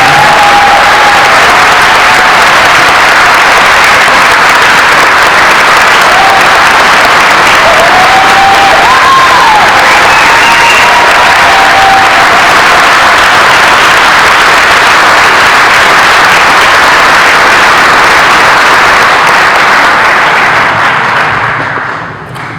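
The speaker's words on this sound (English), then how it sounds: "Let's give all these students graduates" Loud, sustained applause and cheering from a crowd at a 2022 high school senior graduation ceremony, many hands clapping evenly for over twenty seconds before fading slightly at the close, with no talk over it.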